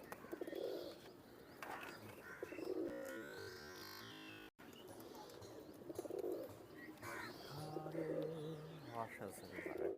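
Pakistani griva pigeons coo in a loft, soft low murmuring calls repeating through the clip beneath someone talking nearby.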